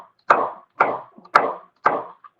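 A knife chops celery on a cutting board in four evenly spaced, crisp thuds, close and clear with quiet gaps between them and no voices.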